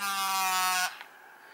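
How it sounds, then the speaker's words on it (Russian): A Samsung phone's vibration motor gives a loud, steady electric buzz for under a second, then cuts off abruptly, leaving a faint hum. "Кнопка номер 5 – вибрация"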